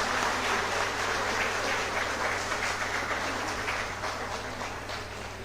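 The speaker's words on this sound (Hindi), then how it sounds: "इसलिए मैं चाहता हूं कि जोरदार ताली सभी संतों के लिए" An audience applauds the saints at a Ramayana conclave held at MUIT Noida. Dense, even clapping fills the hall and slowly thins toward the end.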